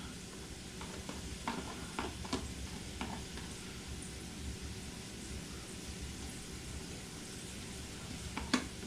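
Chopped onions sauteing in a pot for shrimp and sausage gumbo give a steady, quiet sizzle, with occasional scraping stir clicks and a louder clatter near the end; no one speaks.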